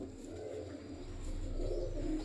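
A female baghal pate pigeon and other loft birds give soft, low cooing calls, faint and somewhat distant, swelling toward the end over a steady hum, with no voices.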